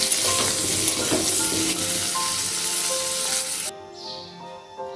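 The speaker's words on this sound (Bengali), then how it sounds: "আলুর মধ্যে ব্রাউন ভাব চলে এলে দিয়ে দিচ্ছি সামান্য হলুদ আলুটা লাল করে ভেজে তুলে রাখছি" Potatoes fry loudly in hot mustard oil with a little turmeric, a dense, steady sizzle that cuts off abruptly near the end and leaves only faint crackling.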